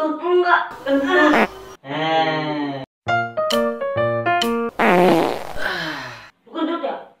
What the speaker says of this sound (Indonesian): Lu kentut ya? Enggak.